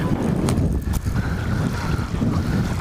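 Strong wind buffeting the microphone beside a fishing pond, a constant low roar with gusty swells and no talking.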